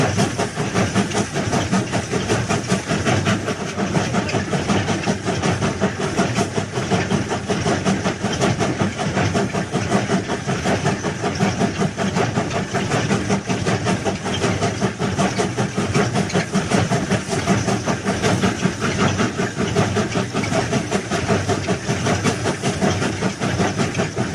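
A railway track-laying machine runs with a loud, unbroken mechanical rumble and hiss that stays steady throughout.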